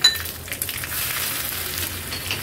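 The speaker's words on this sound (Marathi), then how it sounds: "एक पळीभर म्हणजे 1 टेबलस्पून एवढं आपण तूप गरम करून घेतलं। ह्याच्यामध्ये 1 चमचा जिरं, लाल सुकी मिरची," Cumin seeds and dried red chilies sizzle in hot ghee for a tempering, a steady close crackling fry with a few light clinks and no talking.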